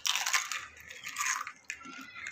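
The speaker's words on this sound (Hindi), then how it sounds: "एकदम कुरकुरे आवाज़ सुने, बहुत ही एकदम क्रिस्पी बने हैं" Crisp fried mathri, a homemade Diwali snack, is bitten and chewed close to the mic, giving a few bright crunchy bursts in a quiet room.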